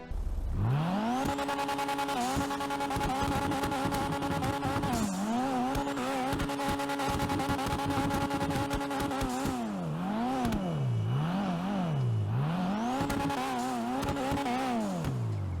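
A Dinka Jester Classic sports car engine in GTA Online revs loudly and continuously, its pitch holding steady then dipping and climbing in repeated swoops, with anti-lag turbo flutter and no talking.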